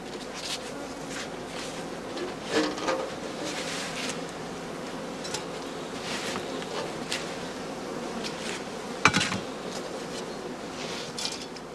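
Honey bees buzz around heather skep hives in an autumn apiary, a steady close insect hum with individual bees passing near.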